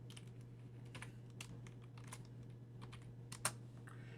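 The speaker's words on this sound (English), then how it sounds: "And I'm going to type in my answer." Quiet clicks of a computer keyboard as an answer is typed in, a loose irregular run of keystrokes with one sharper tap near the end over a faint electrical hum.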